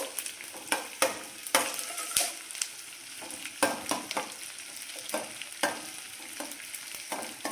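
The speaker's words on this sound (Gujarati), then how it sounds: "ઘી ગરમ થઈ ગયું છે, એમાં આપણે થોડો ગુંદર ઉમેરી દઈશું, અને આવી રીતે તળી લઈશું।" Edible gum frying in hot ghee for sesame barfi, a busy close-up sizzle with repeated sharp pops and crackles as the pieces puff up, steady throughout with no talking.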